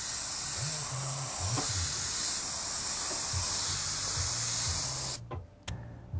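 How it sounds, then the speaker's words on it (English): An airbrush sprays a continuous hiss of air, loud and close, with low pulsing tones underneath, and cuts out abruptly in sputters just before the end. "The air is always on as I'm airbrushing."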